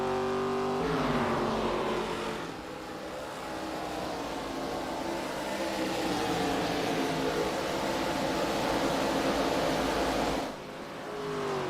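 ARCA Series stock cars race at Iowa Speedway, with engines roaring loudly and steadily as cars sweep past. The pitch rises and falls, and a sharper pass-by comes near the end.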